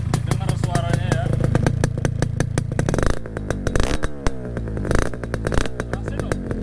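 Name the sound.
Yamaha RX King motorcycle with Adem exhaust idling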